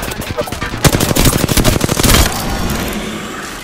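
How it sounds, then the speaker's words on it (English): Video-game machine gun fire rattles in a dense, loud burst of rapid rounds lasting over a second, surrounded by busy battle noise. "Getting shot at."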